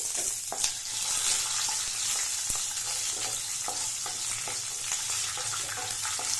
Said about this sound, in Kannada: ಮೂರು ಹಸಿಮೆಣಸಿನ್ಕಾಯಿ ಹಾಕೋತಾ ಇದ್ದೀನಿ ಮತ್ತೆ ಶುಂಠಿ ಮತ್ತೆ ಬೆಳ್ಳುಳ್ಳಿ ಬೆಳ್ಳುಳ್ಳಿ ಹಾಕೊಂಡು ಲೋ ಫ್ಲೇಮ್ ಇಟ್ಕೊಂಡು ಫ್ರೈ ಮಾಡ್ಕೊಳ್ಳಿ